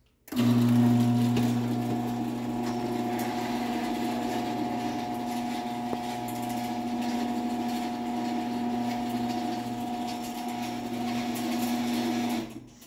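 A LiftMaster 1265LM garage door opener from around 1999 runs steadily for about twelve seconds, giving a close, even motor hum with a mechanical whine and gear drone that starts abruptly and stops at the end.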